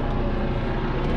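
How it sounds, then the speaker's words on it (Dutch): An airplane passing low over an apartment building, a brief loud broadband roar that fills the moment with no voices. "Hier vandaag ook een vliegtuig heel laag over de flat."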